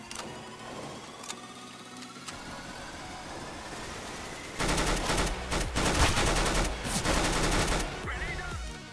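UMP submachine gun in CS:GO firing a dense, loud burst of rapid shots that starts abruptly midway, after a quieter stretch of game ambience with faint tones.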